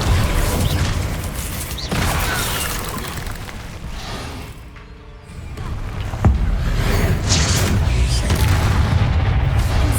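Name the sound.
Incendio and Bombarda spell blasts in Hogwarts Legacy video game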